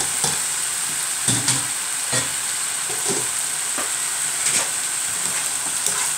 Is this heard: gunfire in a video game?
no